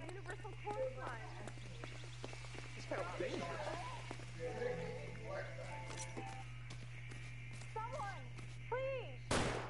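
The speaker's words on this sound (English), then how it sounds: "Я же сейчас тебе ногу прострелю" Single sharp, loud gunshot in a video game set in Los Angeles, cracking out at the very end after a stretch of talking voices, hoof-like clopping and a steady low hum.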